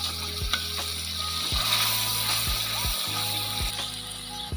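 Masala sizzles in a pan after a few spoonfuls of water go in, a loud continuous hiss with rhythmic scraping strokes of a spoon stirring it, close up and with no talking.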